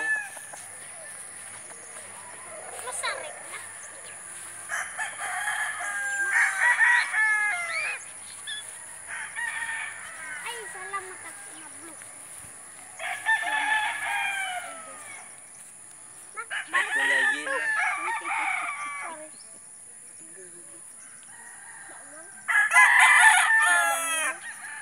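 Chickens and roosters on a game farm crow repeatedly in overlapping bursts, some near and loud, others farther off, with clucking and steady background noise, while people talk at times.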